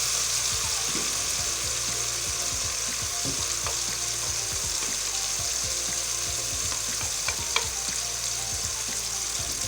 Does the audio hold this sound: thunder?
no